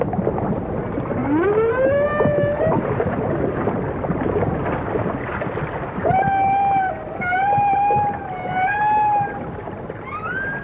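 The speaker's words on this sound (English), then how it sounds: "Even while it rolls and plays, the song keeps booming out." Humpback whale song, a series of long rising moans and sustained tonal calls repeating in phrases, clear and resonant underwater over a steady rumbling ocean background.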